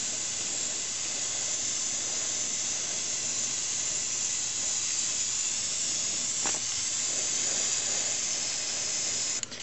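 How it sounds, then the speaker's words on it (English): Airbrush spraying paint onto a resin kit figure, a steady, even hiss running throughout at close range with no breaks, ending abruptly at the finish. "you want to make sure that you've got a nice even flow from your airbrush"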